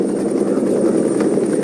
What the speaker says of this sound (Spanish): Los vaqueros arrean el ganado desde helicópteros.